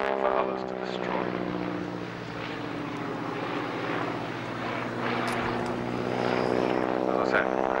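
Continuous droning hum of a propeller aircraft engine, a Harvard trainer flying overhead at the Biggin Hill air show, steady and fairly loud throughout with a slight swell, with a voice talking over it.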